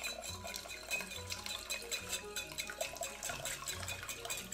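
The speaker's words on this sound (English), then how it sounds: "To your cocktail syrup, you're gonna add 1/4 cup of melted butter." Melted butter goes into a cocktail syrup in a kitchen, with light liquid pouring and clinking against a bowl or utensils in a busy, irregular clatter.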